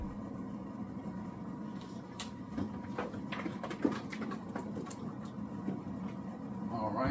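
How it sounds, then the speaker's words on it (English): An Epson 7900 large-format printer powers back on with a steady low mechanical hum and whirring, scattered clicks and taps rising slightly toward the end, while a person talks over it. "Now I'm powering the printer back on right now"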